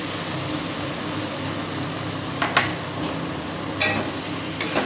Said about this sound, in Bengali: এবার ভালো করে এটাকে কষে নেব